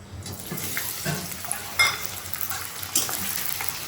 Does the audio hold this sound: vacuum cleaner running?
no